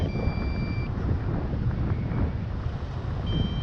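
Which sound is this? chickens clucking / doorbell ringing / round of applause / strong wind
strong wind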